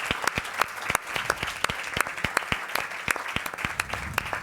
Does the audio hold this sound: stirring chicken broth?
no